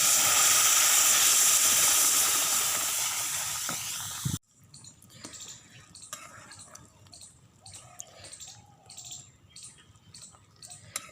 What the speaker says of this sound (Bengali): এর ভিতরে আমি সবজি ডাল ঢেলে দিব